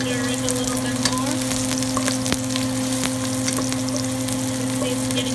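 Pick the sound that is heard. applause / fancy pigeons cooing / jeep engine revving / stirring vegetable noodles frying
stirring vegetable noodles frying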